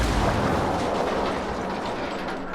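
In the Ghost Recon Wildlands video game, a mortar blast produces a loud, broad, rumbling boom that washes out steadily over a couple of seconds.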